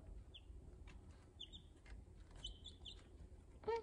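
Young chicks at a water dish give faint, sparse high peeps and a few soft clucks over a low background hum, ending with a slightly louder call.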